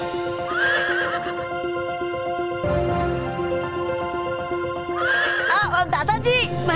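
Horses near a chariot neigh in loud rising whinnies, with hooves clip-clopping and a busy dramatic sound mix underneath.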